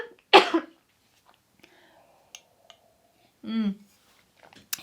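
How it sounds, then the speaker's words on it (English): A person coughs close to the mic: one sharp, loud cough, then quiet small mouth clicks and a short voiced throat sound near the end. "I'm so sorry, I have to cough."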